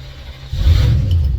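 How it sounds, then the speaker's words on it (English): Volvo Penta 8.1 liter gas marine engine, the port engine of a pair on a boat, cranking and catching: a brief quiet start, then a deep low rumble swelling loud and steady, close by. "So I'm going to go ahead and turn on the port engine."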